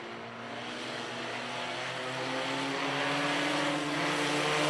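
Race cars in a Bandits class hot lap session at the Mohawk Raceway speedway produce a continuous distant engine drone that slowly swells louder across the clip, with no voices.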